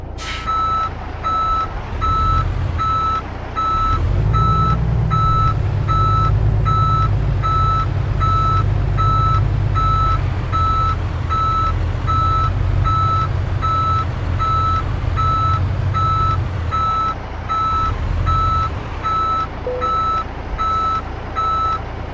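A heavy truck reversing in Euro Truck Simulator 2, its backup alarm beeping in a steady regular rhythm over a low rumbling diesel engine that swells and eases, with a brief air brake hiss.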